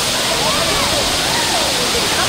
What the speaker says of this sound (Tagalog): Welcome to Tinago Falls!